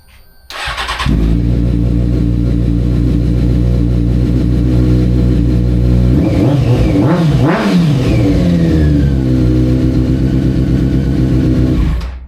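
A Honda F4i motorcycle engine starts up, idles with a deep steady rumble, then revs sharply several times before settling back to idle; loud and close, no talking.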